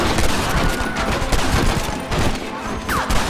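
Dense gunfire from a Red Dead Redemption shootout, overlapping rifle and pistol shots cracking in rapid succession as a steady loud barrage throughout, with faint shouting mixed in.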